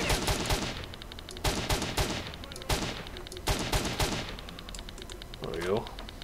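Rapid bursts of video game gunfire ring out in close, loud volleys with short pauses between, a player fighting off a crowd of enemies in Search DIES IRAE, with a brief rising tonal effect near the end.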